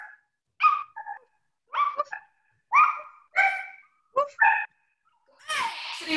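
A class of children imitates a puppy barking. Short, high woofs and yips come one after another with pauses between them, and a final longer breathy call ends the run.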